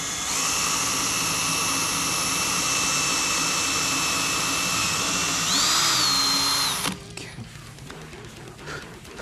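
A power drill whines loudly and steadily as it bores through a Telecaster-style guitar body for a string-through bridge, its pitch rising briefly near the end before it stops, leaving quieter handling noise.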